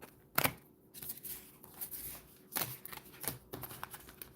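Tarot cards are shuffled by hand in a quick run of crisp riffles and soft slaps, each burst short and close, separated by brief pauses, with no talking.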